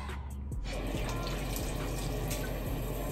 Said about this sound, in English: We'll go ahead and rinse this off.